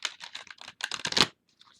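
A deck of stiff playing cards riffled in a side shuffle, giving a close, dry run of rapid flicking bursts that builds to a denser flurry, then a few faint taps.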